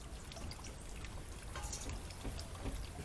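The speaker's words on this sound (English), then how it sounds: "What you hear in the background is my waterfall, our fish pond." A backyard waterfall splashes steadily into a fish pond outdoors in spring, a continuous close, fairly faint rush of falling water with trickling and dripping detail, heard alone.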